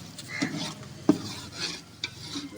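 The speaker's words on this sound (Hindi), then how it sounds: "इसके बाद हम दही डालेंगे" Yogurt stirred into fish curry frying in a karahi, a soft sizzle with scraping stirs and a couple of sharp utensil clinks against the pan, close and steady, no talk.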